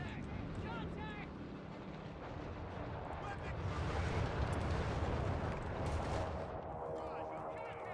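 Dense, continuous gunfire and explosions rattle through a video game battle, loud bursts overlapping with shouted voices throughout.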